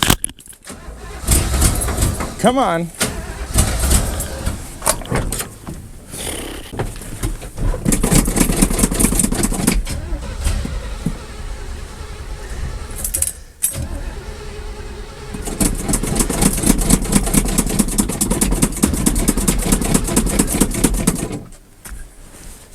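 An abandoned 1979 Chevrolet with an RTV-patched exhaust manifold leak cranks and catches, then runs rough and loud in uneven bursts with clattering and sputtering. A short spoken remark comes in between.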